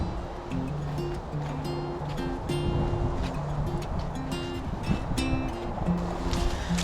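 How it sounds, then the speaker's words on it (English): Wind blows through the trees at Moose Lake State Park as a steady, fairly loud rushing that swells slightly over time, with no one speaking. "I love the sound of wind in trees at parks like this."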